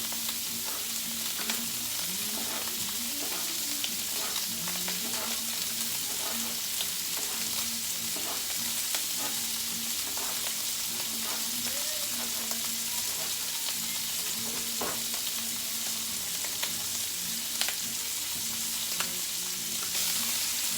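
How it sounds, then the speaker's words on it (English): A pound of sliced andouille sausage sizzles and crackles steadily in hot oil for jambalaya, a constant even frying hiss with occasional pops and stirring, no voices. "Our pound of unduty sausage, just put in that same oil."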